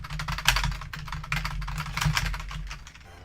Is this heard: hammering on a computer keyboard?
yes